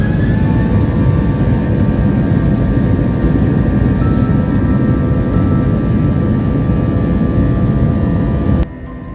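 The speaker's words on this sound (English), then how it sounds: "Oh, I just love when they gun the engines." JetBlue airliner jet engines spooling up, heard from inside the cabin as a loud, steady low roar with whining tones above it, dropping off abruptly just before the end.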